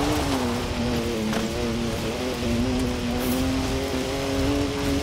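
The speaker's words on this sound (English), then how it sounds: "Three-litre straight-six, 335 horsepower, two turbos, and as much sideways action as you like." BMW three-litre twin-turbo straight-six engine in Forza Horizon 4, a steady droning engine note with a constant harmonic hum held throughout under road and wind noise, close and loud.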